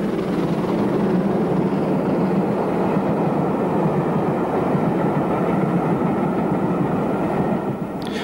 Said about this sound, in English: A Patriot approaches on an 11-coach train.